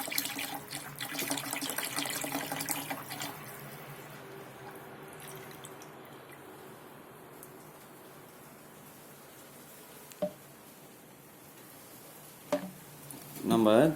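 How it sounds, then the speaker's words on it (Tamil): Neem oil poured into a litre of water, heard as a steady running, splashing pour that fades after a few seconds, followed by a couple of faint drips and a brief rustle at the end. "வேப்பெண்ணெயை அந்த 1 லிட்ரு தண்ணியில் ஊற்றணுங்க."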